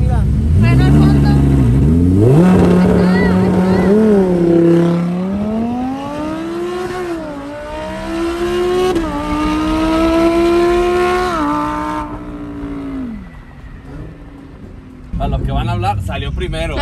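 A car held on the brake at full throttle for a launch-control start, its engine revving hard and rising in pitch through the gears before easing off, loud and close, with people talking over it.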